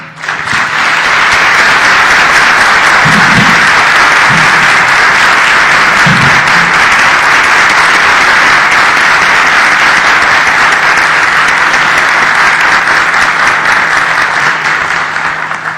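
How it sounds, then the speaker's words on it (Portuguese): A conference audience at a networking meeting gives a long round of applause in tribute to Gomide, a loud, dense, sustained clapping that fills the room without pause, with a few low voices briefly audible underneath. "através de uma salva de palmas"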